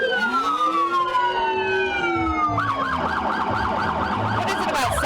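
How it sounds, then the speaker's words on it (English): Emergency vehicle sirens in a winter carnival parade, loud and close, first long rising-and-falling wails, then rapid yelping warble cycles taking over, continuous throughout with no talking. "You can't beat sirens in a parade."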